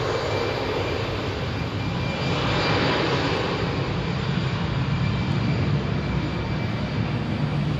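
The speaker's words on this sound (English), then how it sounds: "Obviously extended when the aircraft is on, when it is reversing, to use reverse thrusters." Airliner on Heathrow runway 27R roaring in reverse thrust, a loud, steady, broadband engine rush that holds unbroken throughout with no talk.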